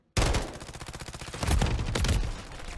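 Modern Warfare 3 multiplayer Hardpoint match on the Farm 18 map: dense, continuous automatic gunfire that starts suddenly and swells louder midway through, close and sustained.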